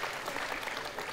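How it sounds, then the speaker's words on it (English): Men in a church congregation clap together, a brief, even wash of many hands at moderate level with no pause. "All right, the guys are clapping."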